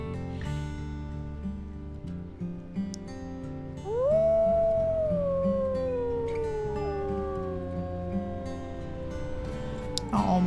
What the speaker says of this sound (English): I love the fact that we can hear our pack howling back at us.